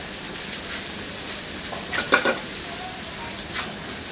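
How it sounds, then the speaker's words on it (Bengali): Laccha semai strands deep frying in oil over low heat, a steady faint sizzle with a few soft stirring clicks near the middle. "এখন এই মাঝারির থেকেও নিচের আঁচে আমার ভেজে নিতে হবে যাতে জিনিসটা মচমচে হয়"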